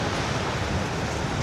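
Ocean surf washes in at Bekal Fort beach in Kerala as a steady, broadband hiss and rumble of breaking waves, with no voices over the short stretch.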